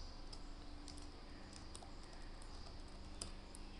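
Keys clicking on a computer keyboard while code is typed in Visual Basic, very faint and scattered over a steady background hiss.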